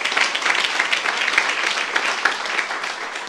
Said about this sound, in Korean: 여러분 가정에 영향을 줄 수 있다고 믿는 사람은 박수 하세요